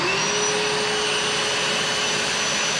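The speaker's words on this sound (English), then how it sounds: "The vacuum first." A vacuum cleaner runs steadily and close by, a constant loud whir with a thin high whine, no breaks and no voices.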